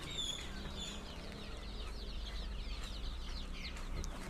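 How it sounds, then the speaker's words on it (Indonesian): Week-old chicks in a chicken coop at a farm shop cheep in a quick, overlapping chorus of high peeps, with occasional clucks from grown hens beneath, fairly faint and steady throughout with no talking. "anakan ayam."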